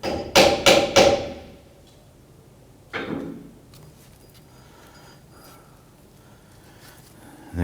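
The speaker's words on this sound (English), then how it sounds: "I'm gonna just use our hammer here and go ahead and tap around the backing plate and the wheel cylinder" A hammer taps the brake backing plate and wheel cylinder of a 1997-2006 Jeep Wrangler's rear drum brake: three quick sharp metallic strikes close together, then one more single tap after a pause, with quiet between.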